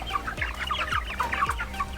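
Several chickens cluck softly in a farmyard flock that includes roosters, quick broken clucks repeating at close range over a low background, with no talking.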